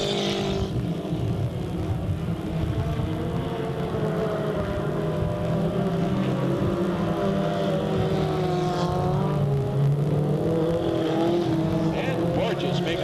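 Race cars, including trucks, circling the Delta Speedway track in 1998, their engines a steady, dense roar with passing swells, heard continuously beneath a commentator's ongoing race call.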